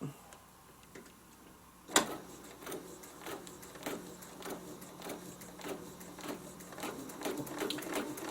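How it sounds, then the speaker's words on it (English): A sewing machine stitches a Westalee ruler snowflake design in a quilting setup, starting after a sharp click near the two-second mark. It settles into a steady, rhythmic run of close mechanical stitch ticks that lasts to the end. "So I'm going to start stitching, and I'm going to stitch all the way down here, around, and back up"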